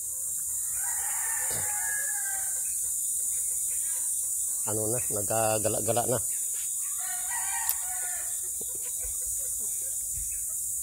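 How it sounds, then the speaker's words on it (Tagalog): A tethered rooster lets out one loud, drawn-out crow, with someone talking before and after it over a steady background hiss. "Ito na yung tandang ko at tinalian ko na guys."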